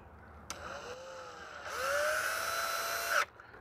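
A power drill drives self-tapping screws into an RV: two close, whining bursts, the first short and the second longer and louder, with a quiet pause between them.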